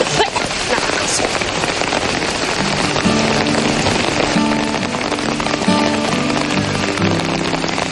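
Heavy rain pours steadily onto surfaces, a dense continuous patter with scattered louder drops and a faint tonal hum underneath.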